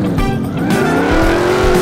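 A car speeding in Turbo Dismount, its engine whining loudly and rising in pitch with tire squeal mixed in, a continuous close roar with no talk.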